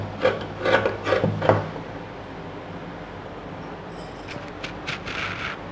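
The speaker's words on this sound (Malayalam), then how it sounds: "ഇനി നമുക്കത് അങ്ങനെ അങ്ങോട്ട് കട്ട് ചെയ്തെടുക്കാം" Scissors cut through churidar fabric and its lining together, giving a few close rasping snips in the first second and a half, then a quieter stretch of soft cloth rustle.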